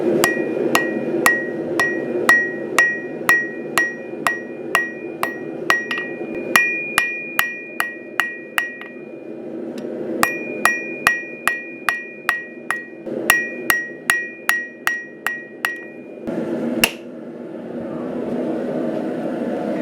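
A hammer forges and straightens a steel boot knife blade, ringing out in fast rhythmic runs of sharp metallic strikes, near and loud, separated by brief pauses, with no talking.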